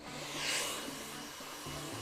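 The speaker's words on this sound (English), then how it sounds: "you really want to sort of rough it up with your dryer as well" A handheld hair dryer roars steadily as it blows styling product into hair until bone dry, a constant breathy whoosh with a slight fluctuating hum, close and loud with no talking.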